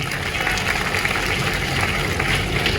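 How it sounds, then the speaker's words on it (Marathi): Audience applause at a student guidance talk by a shahir (folk balladeer), a steady, loud wash of clapping from a crowd lasting the whole stretch with no pauses. "याच्यावर टाळी एकदा जोरदार।"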